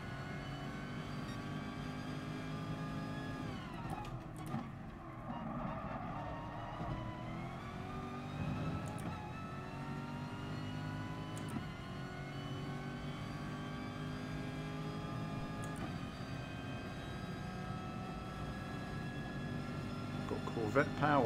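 A Corvette race car engine in Gran Turismo Sport during an FIA online race drones continuously at high revs, its pitch sweeping up and dipping at gear changes, steady and loud throughout.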